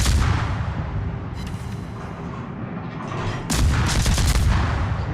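Naval guns on the Z-44 destroyer fire in World of Warships: deep, rumbling cannon booms roll continuously, with a louder, heavier blast striking partway through and sustaining to the end. No one speaks.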